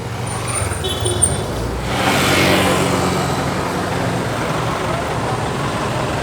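Steady traffic noise from cars, buses and trucks on a busy Metro Manila road during a clearing operation, a continuous broadband roar that swells briefly as a vehicle passes close by.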